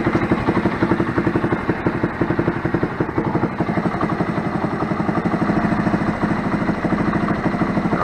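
A Megelli motorcycle engine idles roughly, with a steady loud close-up putter and an uneven, pulsing beat that runs on without a break and no voices.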